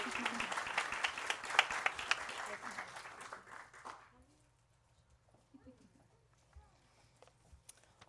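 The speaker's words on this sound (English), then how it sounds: "join me again in giving them a round of applause" A church congregation applauds in a steady wash of clapping that fades out after about four seconds, leaving near silence with faint rustles and a few distant voices.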